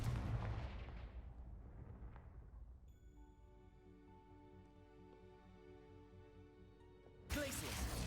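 A Confringo blasting spell from a Harry Potter video game bursts in a loud explosion, then its rumble decays into a bright, sustained shimmering ring before a second sharp blast hits right at the end.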